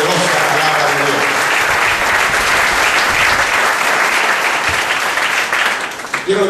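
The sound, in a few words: church congregation applauding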